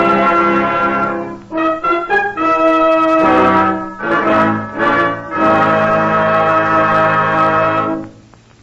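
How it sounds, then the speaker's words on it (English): Sustained bell-like chime tones from old-time NBC network radio, rich ringing harmonics sounding in several swelling strikes that overlap and decay over about eight seconds, with no voice. "3 chimes mean good times on NBC"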